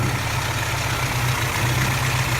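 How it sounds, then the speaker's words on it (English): A 1981 Toyota engine idles steadily nearby with a low, even rumble and a faint continuous hiss from an air leak, with no one speaking. "And I can hear an air leak somewhere, so I got to look into that."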